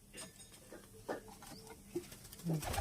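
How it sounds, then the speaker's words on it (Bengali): A Murshidabad-line pigeon coos in soft, low, throaty bursts, close by and fairly faint, with a few rustles and small clicks between the calls. "এটা মুর্শিদাবাদ লাইনে পায়রা"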